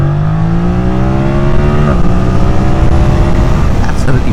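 A 2025 Yamaha MT-07 motorcycle with automatic gearbox accelerating in D+, engine pitch climbing steadily, then dropping sharply at a gear change before rising again, loud and close under wind rush.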